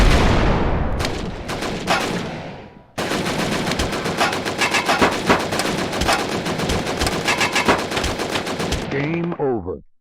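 Rapid bursts of automatic gunfire from the VR shooter Operation Warcade, loud and dense, a brief lull near the start before sustained firing resumes until it cuts off near the end.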